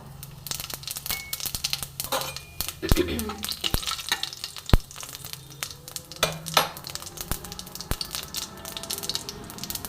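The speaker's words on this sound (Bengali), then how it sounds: "এই তেলের মধ্যে আমি একটু গোটা জিরে ফোড়ন দেব" Whole cumin seeds tossed into leftover fish-frying oil crackle and sizzle close by, with scattered sharp pops and scraping stirs throughout.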